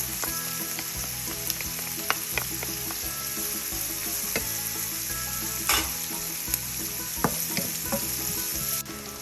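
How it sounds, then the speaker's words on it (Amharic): Garlic hits hot oil in a pan and sizzles with a steady, fairly soft hiss, with intermittent clicks and scrapes of stirring, for a homemade spaghetti and meatball sauce. "ነጭ ሽንኩርቱን እንደዚህ ጨምራለሁ።"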